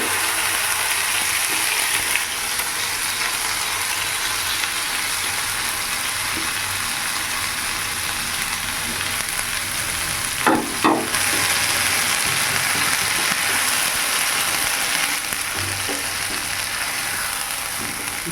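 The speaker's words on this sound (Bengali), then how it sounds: "হিংটা হয়ে গেল ভাজা এরপরে বেটে রাখা মটরশুঁটিটা পুরোটা দিয়ে দেবো" Ground green peas fry with asafoetida in hot oil, a steady close sizzle lasting throughout, broken now and then by the scrape and clatter of stirring.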